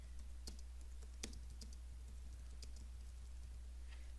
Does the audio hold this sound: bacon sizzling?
no